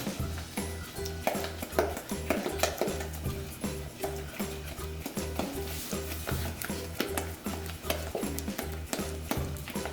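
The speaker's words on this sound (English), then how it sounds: "beat this almost until it is really, really super combined" A spoon beats peppermint brownie batter by hand in a bowl, making a steady, rhythmic series of close taps and scrapes that repeats evenly throughout.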